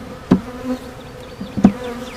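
Honeybees in a swarm trap buzz close by, a soft steady hum broken by two brief loud passes as single bees fly near.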